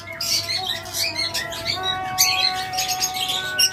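A parblue female lovebird squawks in repeated sharp, harsh calls at close range, with other bird chatter around it.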